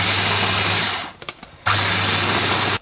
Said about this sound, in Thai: หลังจากนั้นปิดฝาค่ะแล้วเราก็มาปั่นกันต่อค่ะ